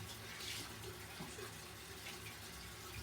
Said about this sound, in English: Rinse out. So get the soap and water out.